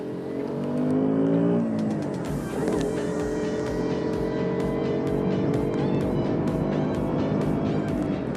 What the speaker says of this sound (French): entendre le joli bruit du moteur qui est en pleine action